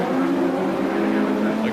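Touring cars at the 1990 British Touring Car Championship round on the Birmingham SuperPrix street circuit, with engines droning and accelerating away at a steady loud roar, a commentator talking over them throughout.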